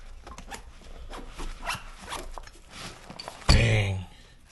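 An EDC car tool kit bag is unzipped in one quick, rasping pull that stands out near the end, after a stretch of quiet shuffling and faint background voice.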